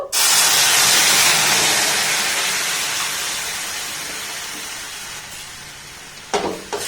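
Liquid milk hits hot roasted semolina in a pan, bursting into a loud steaming hiss that slowly weakens over several seconds, followed by a couple of brief clatters near the end.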